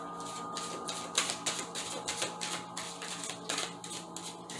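Tarot cards from four decks shuffled by hand, a quiet series of crisp riffling and tapping bursts in an irregular rhythm, close up, with a faint steady hum underneath.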